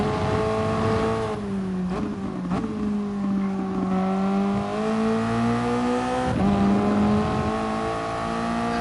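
Race car engine in a racing video game on an out lap, a steady loud drone whose pitch climbs and dips with short breaks as it shifts, running alone without talk.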